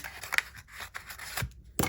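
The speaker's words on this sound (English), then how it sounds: "I'm just going to use non-stick scissor." Non-stick scissors snip through masking tape at a craft table, giving a few short crisp cuts close to the mic with no talking.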